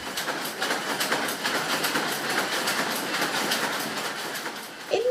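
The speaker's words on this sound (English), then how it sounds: "I made a recording of the working looms" Working looms in a 19th-century-style cotton mill, recorded as a dense, steady mechanical clatter with rapid rhythmic clacking and hiss, loud and continuous throughout with no voices.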